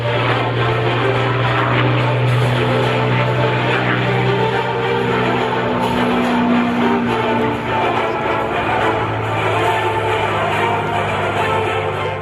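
A propeller aircraft climbs through a four-point aerobatic roll at an air show on a grass field, its engine droning loudly and continuously with a strong steady hum, near and dominant throughout.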